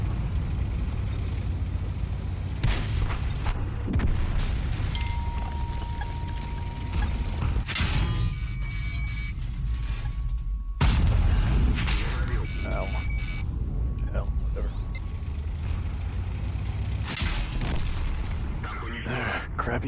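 Gunfire in a video game aimed at an island: a steady, loud wash of shots and blasts with mechanical clatter running through the whole stretch, broken by a few brief drops, and voices talking over it.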